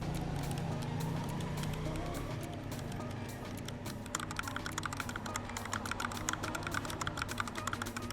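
A Royal Kludge RK61 wireless 60% mechanical keyboard is typed on rapidly, a dense, continuous patter of close clicky keystrokes that grows busier partway through over faint background noise.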